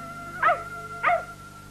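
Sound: cartoon dog barking

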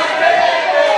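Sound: wrestling crowd chanting

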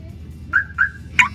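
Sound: dump truck security alarm going off

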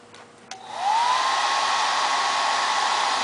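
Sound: blow dryer running, balancing a ping pong ball

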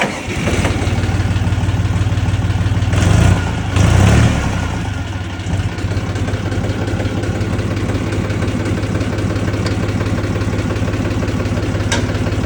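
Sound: tractor engine starting and idling

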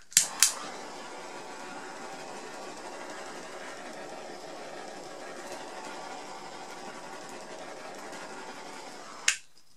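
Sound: heat gun removing bubbles from resin

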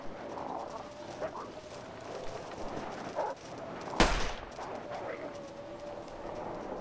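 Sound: gunshots from a video game

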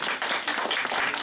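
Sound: audience applause at a concert

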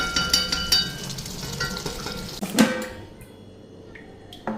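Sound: fish being fried and stirred in a pan

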